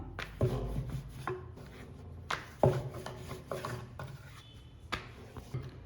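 Samosa dough rolled out with a rolling pin into a round a little thicker than a chapati, giving soft rubbing, knocking strokes at an irregular pace, close by and fairly quiet.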